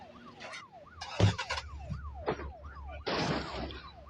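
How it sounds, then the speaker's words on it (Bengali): A police car siren in the Indian Theft Auto Simulator video game wails in a repeating rising-and-falling cycle, loud and close, with bursts of other game noise mixed in. "পুলিশের গাড়ি শব্দ পাচ্ছি আমরা।"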